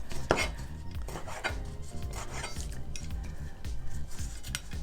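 Knife chopping food into bite-sized pieces on a board, a brisk run of close, repeated cuts with light clinks of utensils, no voices.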